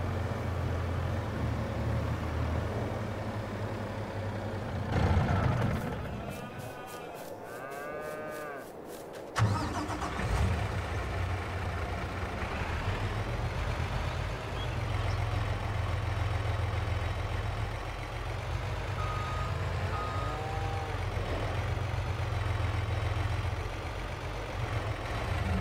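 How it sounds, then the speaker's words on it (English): Truck engine running in the Farming Simulator video game, a steady mid-pitched drone throughout, with a mechanical start-up rattle partway through and faint beeping tones in the background. "I'll have to move that truck maybe"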